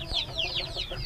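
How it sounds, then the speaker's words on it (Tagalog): Week-old mixed heritage chicks cheep in quick, repeated high chirps, close and fairly soft, filling the short moment without any talk. "That's our mixed heritage chickens."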